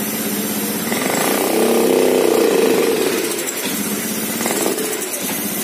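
A Honda Beat scooter engine with its TPS sensor connector unplugged, revved with the throttle: a loud, close, buzzing engine that rises over a couple of seconds and then drops back to a rough idle.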